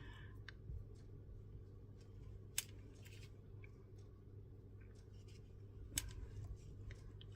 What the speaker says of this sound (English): Just cut that off and that off.